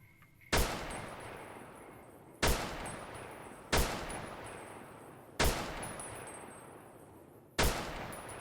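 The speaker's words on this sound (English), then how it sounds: "I'm just firing and hoping that my broken arm sways the gun correctly." Gunfire from a gun in the video game Fallout: New Vegas: five single loud shots spaced unevenly a second or two apart, each with a sharp crack and a trailing decay, and no talking.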